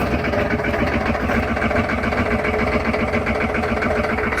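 A 1996 6.5-liter diesel engine idles steadily after a cold start, a continuous loud rumble with a busy mechanical rattle running through it from start to finish.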